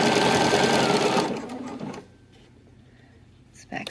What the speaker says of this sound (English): I'm just gonna go ahead and sew a little bit